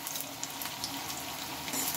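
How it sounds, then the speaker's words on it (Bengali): Spinach fritters fry in a pan, a quiet, steady bubbling sizzle with faint crackles throughout and no voices. "আর ওই সাইডটাও একইভাবে কিন্তু ভেজে নিতে হবে"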